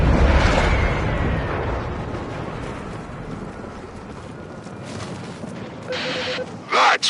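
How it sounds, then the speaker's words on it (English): The old Macvoss cannon fires and explodes in the Warframe video game, a heavy boom at the start that decays into a long, rumbling roar, with a few sharper bursts near the end. "That was the old Macvoss cannon."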